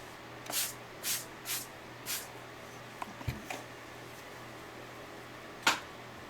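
Water spritzed from a spray bottle onto paper in a Chinese brush painting session: four quick hissing bursts close by, then a soft knock and one last spray, no talking.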